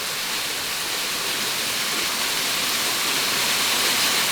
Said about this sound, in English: Here's this waterfall, in case you wanted to see it.